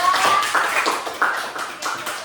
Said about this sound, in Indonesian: tepuk tangan dong kelompok 2